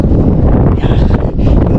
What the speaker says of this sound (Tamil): இந்த இடத்துல அப்படி காற்று வந்து ஆளை தள்ளுது.